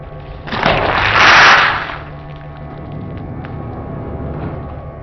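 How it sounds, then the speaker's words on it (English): Hydraulic press crushing a large bundle of many lit candles: a loud, hissing crackling burst rising and fading over about a second and a half, then a quieter continuing crackle and rumble. "It's an amazing big ass candle crush."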